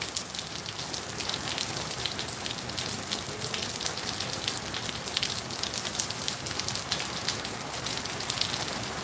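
Steady rain falls continuously and evenly for the whole stretch, a dense broadband hiss of drops with no pauses and no voices.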